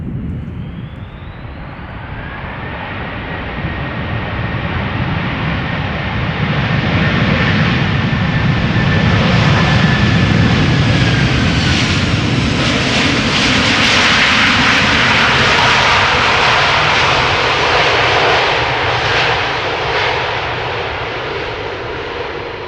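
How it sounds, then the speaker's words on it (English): A Delta Airlines Airbus A330-300 jet arriving at Schiphol Airport from Detroit roars steadily and loudly for the whole stretch, its whine rising then fading slightly near the end, with no voices. "This is Delta Airlines flight 136 arriving from Detroit, Michigan."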